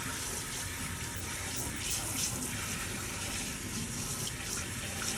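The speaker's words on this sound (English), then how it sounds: "now I'm going to rinse it with cold water" Cold water runs steadily from a faucet for a rinse, a continuous close rushing flow with slight splashing variations and no voices.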